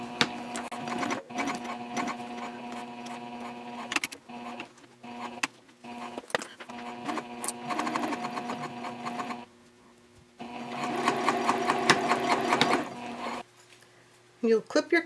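Sewing machine stitching back and forth over seatbelt webbing on a baby sling, running in several close bursts with short pauses between runs, steady and fairly loud.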